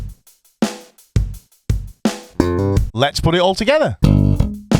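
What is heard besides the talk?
slap bass riff at full speed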